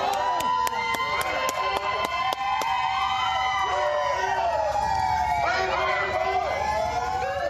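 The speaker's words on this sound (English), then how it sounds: "That's the sound of supporters cheering Desmond Meade as he came out of a" Crowd of supporters cheering and whooping outside a Florida polling place, with many overlapping voices and a sharp rhythmic tapping early on, loud and sustained.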